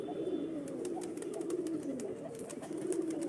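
Pigeons, including a long-tailed fancy breed, coo steadily and close by in a low, throaty rolling murmur that continues without a break.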